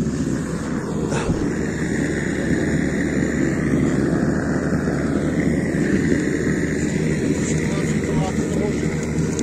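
An excavator's diesel engine, fed starting fluid, cranks and catches into a loud, steady, rough roar close by, with wind buffeting the microphone and voices speaking over it.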